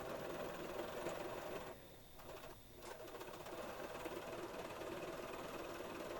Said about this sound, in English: I just do a straight stitch along that side.